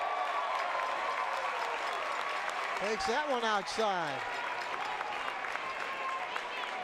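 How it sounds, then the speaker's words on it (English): A Division II high school baseball state semifinal crowd, Walsh Jesuit against Hoover, claps and cheers in a steady, distant wash that swells midway, while a commentator talks over it. "this Vikings crowd into every pitch right now"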